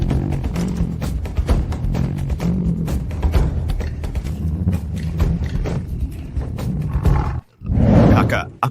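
A tiger roars repeatedly in loud, rumbling bursts, mixed with voices talking over it.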